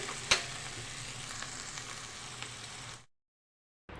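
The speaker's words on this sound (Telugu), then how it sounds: "కరివేపాకు ఒకసారి కలదిప్పుకుందాం" Curry leaves are stirred in a hot pan while preparing ivy gourd chutney, giving a steady close sizzle with a small clink early on, before the sound cuts to silence for a moment.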